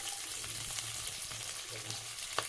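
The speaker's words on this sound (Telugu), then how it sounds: "తర్వాత ఉల్లిపాయ పచ్చిమిరపకాయలు వేసుకోవాలండి" Onions and green chillies fry in hot oil with seasoning seeds and dried red chillies, giving a soft, steady sizzle with light stirring scrapes, fairly quiet and close.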